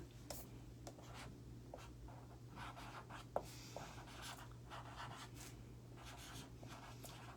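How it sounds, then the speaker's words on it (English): A pen scratches across the back of a stencil, close and quiet, with short rhythmic strokes and brief pauses between letters in a still room. "I'm going to write on the back of my stencil, Filigree Leaf."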